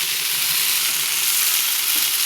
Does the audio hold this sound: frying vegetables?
yes